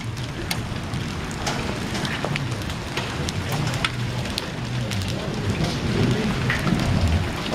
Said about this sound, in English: hail's coming down